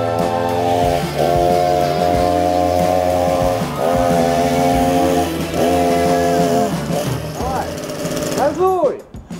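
Gasoline chainsaw revving hard and steady at close range, its engine pitch rising and dipping in cycles before sputtering down at the end.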